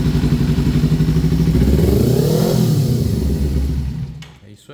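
A Kawasaki Ninja or Z300 motorcycle engine runs close by, rising in a rev near the middle before settling back and dropping away at the end.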